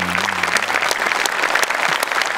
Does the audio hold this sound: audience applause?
yes